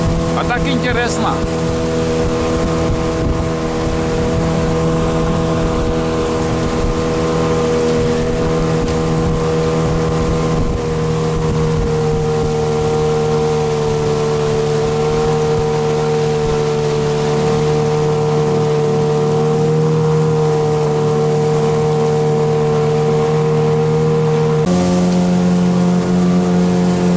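A Mikatsu 9.8 outboard motor drives a boat at speed, a steady loud droning engine tone holding throughout with a brief pitch shift near the end as the throttle changes.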